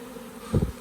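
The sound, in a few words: honeybees buzzing in hive box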